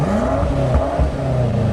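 A car engine revs loudly and steadily for a moment, pitch wavering up and down, close and without talking.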